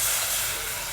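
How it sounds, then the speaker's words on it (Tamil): A steady, loud hiss as tamarind water hits a pan of sautéed tomatoes and chilies for Mumbai-style sambar, sizzling briefly up close. "இப்போ நம்ம கரைச்சி வச்சுட்டுருக்கிற புளியையும் அதில் சேர்த்துக்கலாம்"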